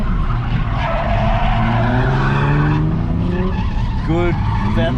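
A Ford AU Falcon drifts around a tight drift-park course, its tyres skidding and squealing continuously with a loud, rising engine under the slides, while an instructor talks over the noise.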